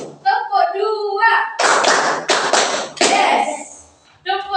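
A primary school class claps in a counted rhythm, sharp bursts of hand clapping in groups between spoken counting, close and loud, with a teacher's voice leading.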